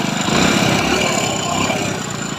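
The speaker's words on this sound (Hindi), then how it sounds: "तो जो साउंड है वो मतलब हल्का टाइमिंग चेन का साउंड है।" A Hero Splendor motorcycle engine idles steadily up close, its even chugging carrying a faint ticking rattle from the timing chain.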